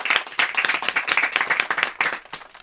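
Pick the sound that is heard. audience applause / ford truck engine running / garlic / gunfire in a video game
audience applause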